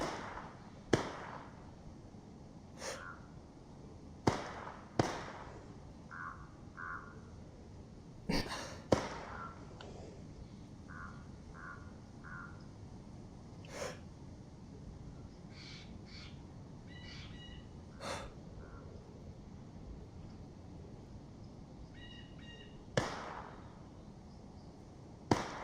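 Distant gunshots in DayZ, a series of sharp single cracks spaced irregularly across a quiet outdoor ambience, with faint bird-like chirps in between and no talking.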